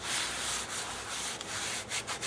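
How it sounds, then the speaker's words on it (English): Rust rubbed off a water heater part makes a continuous close, scratchy scrubbing hiss in fairly even strokes, with brief pauses near the end and no talk. "I'm taking some of that rust off"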